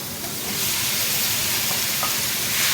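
Tomatoes hitting hot oil in a pan while making fish pulao give a steady, fairly loud broadband sizzle that holds from start to finish, with faint stirring clinks, and no voices.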